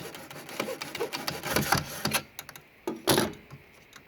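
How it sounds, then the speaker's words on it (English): A hacksaw cuts through a rubber door seal in short, uneven rasping strokes, close and fairly quiet, with brief pauses between bursts. "I used a hacksaw to cut the seal to the exact measured length."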